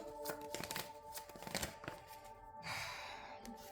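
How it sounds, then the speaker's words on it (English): Tarot cards are shuffled close up in soft, quick riffles and flicks, a faint papery rustle in a quiet room with no one talking. "Okay, so we're gonna pull a card for you."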